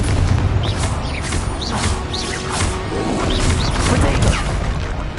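Blasting spells in Hogwarts Legacy erupt in repeated crashing explosions with whooshing casts and sharp impacts, loud and dense, several bursts tumbling over one another in a chaotic duel.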